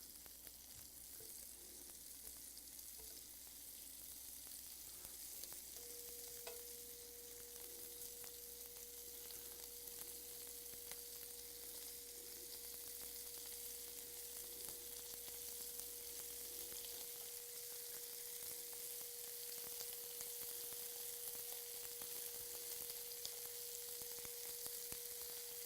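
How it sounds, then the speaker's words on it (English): Seasoned sausage meat broken into pieces and frying in a fry pan, giving a soft, continuous hissing sizzle with a steady faint hum running through most of it. "you just want to break it up and throw it in pieces into your fry pan"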